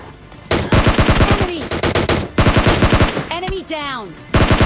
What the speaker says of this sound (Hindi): सामने से दो बॉट खूब फायर कर